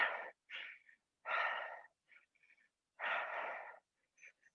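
Loud, close breaths in and out during a shoulder blade squeeze exercise, with several separate breathy bursts, some longer exhales and short wheezy puffs between them, and no talking.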